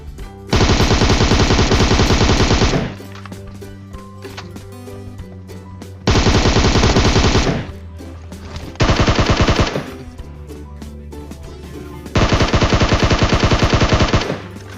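Rapid bursts of automatic gunfire in PUBG Mobile, loud and close, in four long volleys separated by short gaps of quieter background.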